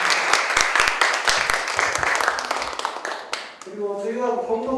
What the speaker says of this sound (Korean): 우리 탐사단들 수고하셨다고 정리 박수.